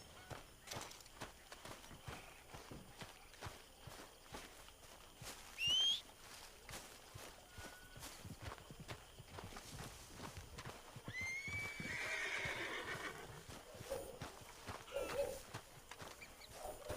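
A horse in Red Dead Redemption 2 gives a couple of neighs and whinnies over a steady patter of hooves, with soft outdoor game ambience underneath.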